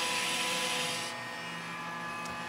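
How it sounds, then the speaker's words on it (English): A VacUpack Visaal vacuum sealer runs a short vacuum cycle, giving a loud, steady mechanical whir and hiss that eases slightly in pitch and intensity partway through. "we're going to run a short vacuum cycle"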